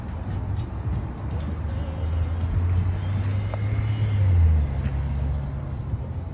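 A BMW rolls slowly past at a local car show, its low engine rumble swelling as it nears and fading after it passes, with crowd chatter and background bustle throughout.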